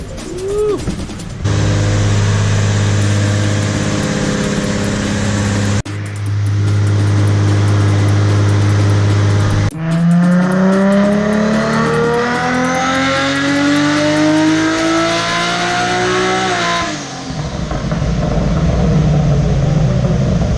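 A Nissan GT-R on a dyno revs loudly through several sustained pulls, the engine note climbing steadily in pitch with brief drops between runs, close and continuous without talk.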